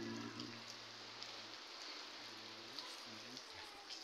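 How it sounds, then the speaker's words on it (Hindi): Rain falls steadily in India as a dense, continuous hiss, with a low hum running underneath throughout. "जल काफ़ी बढ़िया सा बारिश हो रही है"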